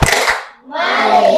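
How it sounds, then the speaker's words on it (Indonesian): A class claps hands together in a focus-clap routine, giving two short, loud bursts of clapping close by with a brief pause between them. "Kita tepuk fokus."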